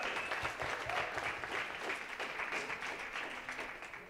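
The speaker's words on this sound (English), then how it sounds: "Give them a round of applause." An audience applauds at an evening performance with Reggie Wilson, a soft, fairly distant patter of clapping from a crowd that holds steady for a few seconds.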